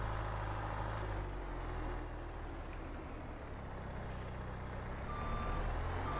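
A heavy truck in Farming Simulator 22 maneuvers a trailer, its diesel engine droning low and steady while a reversing beeper sounds, fairly close, with no talk.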